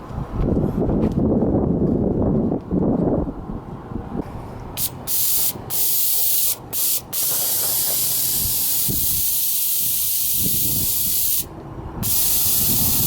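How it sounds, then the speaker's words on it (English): Loud, steady hiss of an aerosol brake cleaner spraying in long bursts on a Ford F-150 rear differential, broken by a few short pauses, with no talking. "we're just going to spray this out with the brake cleaner again"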